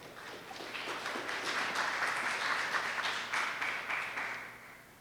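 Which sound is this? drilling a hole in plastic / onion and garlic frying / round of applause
round of applause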